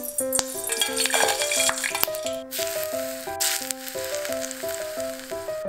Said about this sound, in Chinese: 浇两勺热油